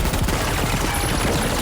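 Gunfire in the video game Death Stranding 2: a rapid, dense burst of loud shots that fills the whole short moment.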